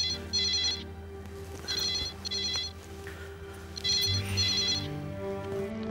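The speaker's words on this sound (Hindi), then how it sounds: "सॉरी सर बट आप ये फोन ले लीजिए, बात अन्नु की है।" A telephone ringtone trills in repeated bursts, loud and close, in an office scene from a Hindi police drama. A steady tonal background bed runs underneath, with no talk.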